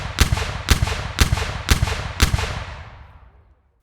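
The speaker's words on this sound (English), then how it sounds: "I keep getting interrupted by cannon fire." Five heavy cannon-like booms in an even, roughly half-second rhythm, each with a rumbling tail, loud and near, the last one trailing off into a long fading echo.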